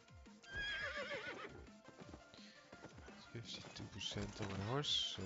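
A horse in a pirate-themed video game whinnies and snorts while hooves clip-clop beneath, the sounds repeating over a busy game soundscape, with a voice talking over parts of it.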